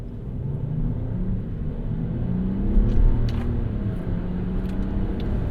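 A 2025 Ram 1500 Rebel X pickup with an inline-six engine accelerates gently, its steady mid-pitched engine rumble swelling slightly near the middle and holding close and loud throughout, with no talking.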